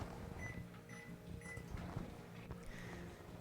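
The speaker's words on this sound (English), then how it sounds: "So I'm going to microwave this on high for about 10 seconds." A microwave oven runs on high heating a lemon, a low, faint, steady hum with small clicks and knocks nearby.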